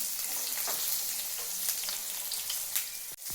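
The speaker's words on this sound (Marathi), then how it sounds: "या मच्छीसोबतच बाजूचा कढीपत्ता आणि लसूण त्या तेलामध्ये गेलेला आहे" Fish sizzles steadily in hot oil alongside curry leaves and garlic, a dense continuous crackle close by with a few sharper pops and a brief clatter near the end.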